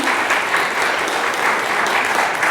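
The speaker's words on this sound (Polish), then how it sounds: "proszę o oklaski" An audience in a historic concert hall breaks into full, steady applause, a dense continuous wash of many hands clapping at close range.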